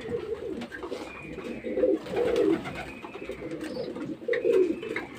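Adult pigeons coo close by, repeated soft throaty rolling calls in bursts about every second or two, with faint chirps and rustling around them.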